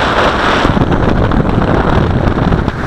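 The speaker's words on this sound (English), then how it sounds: "so you can see it try to fight this wind" Strong wind buffets a Q7 drone carrying a camera as it flies in a 15-knot gust: a loud, steady, roaring rush with no break for about three seconds.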